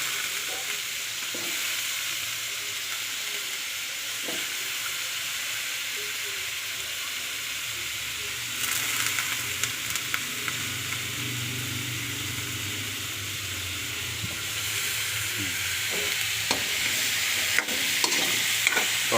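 Chunks of hard squash are stir-fried in a hot pan for pinakbet, with a constant loud sizzle broken by occasional scraping stirs, heard close and alone without talk.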